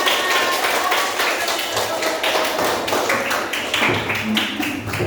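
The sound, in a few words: class clapping hands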